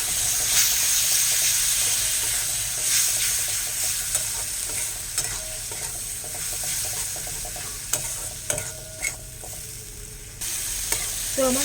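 A spice masala for a Bengali parshe fish curry is sautéed in hot oil, a loud continuous sizzle close by with occasional spoon scrapes and taps against the pan, fading a little near the end.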